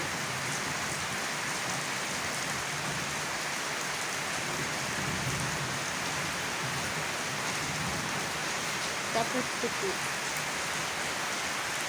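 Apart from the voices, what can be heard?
rain falling at night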